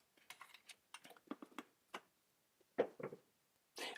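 Typing on a computer keyboard, a series of quiet irregular key clicks in small bursts with short pauses, close and alone against a silent background.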